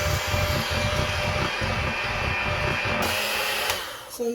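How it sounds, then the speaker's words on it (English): An electric mixer whirs steadily as it beats thick chocolate cake batter, a continuous buzzing hum with a rhythmic pulsing churn that changes briefly near the end. "Alright, so I'm going to use the mixer now."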